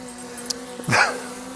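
Dogs bark outdoors during a drone flight: one short, moderately loud bark with a faint yip just before it, over a steady background hum.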